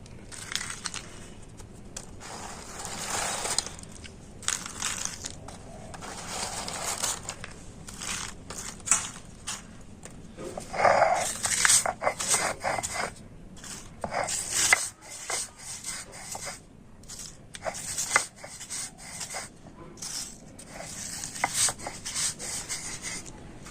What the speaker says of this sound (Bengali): তো বিস্কুটগুলো আমি শিলনোড়াতে গুঁড়ো করে নিচ্ছি।